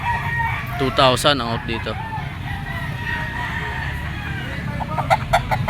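Yellow-legged stag rooster crowing once loudly near the start, with clucks and scattered calls from other fowl at a busy pet and poultry market, someone talking briefly over the birds.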